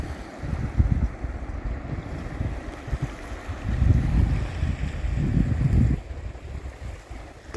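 Waves and wind on the Baltic Sea coast of Gotland near Visby: a low, steady rush of surf with gusts buffeting the microphone, swelling and easing in loose surges.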